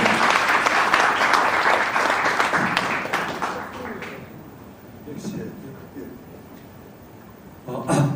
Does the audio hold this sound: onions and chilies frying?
no